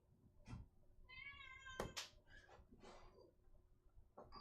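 A pet cat meows several times close by, including a long wavering meow and a few shorter chirpy calls, with faint background rustle and no talking.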